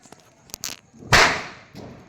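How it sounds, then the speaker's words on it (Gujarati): Several sharp firecracker cracks pop in quick succession during Diwali, then one louder burst rings out, followed by a fainter pop, going off nearby. "ફટાકડા ફોડો"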